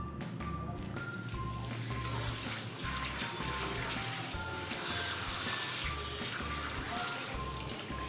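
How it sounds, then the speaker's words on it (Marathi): Potato papad for fasting frying in hot oil over a low gas flame, giving a steady bubbling sizzle that stays fairly loud and continuous throughout, with no talking. "फ्लेम मोठी ठेवू नका, कमी गॅसवर तळून घ्यायचे."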